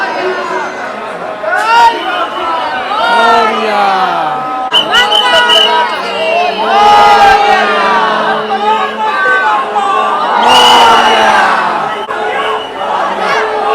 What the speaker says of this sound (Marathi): हे बघा किती गर्दीमध्ये आलोय बघा